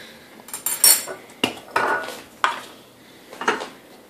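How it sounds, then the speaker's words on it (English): A three-year-old stirs food in a pan with a utensil, producing a handful of sharp metallic clinks and scrapes spaced irregularly, close and fairly loud against quiet background. "Okay, now stir."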